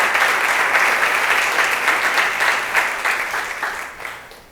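A congregation applauds during a Portuguese-language morning church service, a loud, dense wash of clapping that continues steadily and then gradually fades away.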